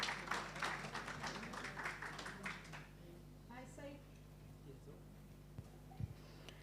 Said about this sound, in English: A clap of hands, please, for the poet